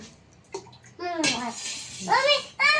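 Water is poured into a cooking pot at home to make Maggi noodles, with bursts of splashing filling sounds while someone talks and babbles over them.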